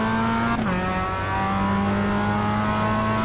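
A manual-transmission car engine holds a steady drone, then briefly dips in pitch as a gear shifts, and settles back into a sustained hum with no talking.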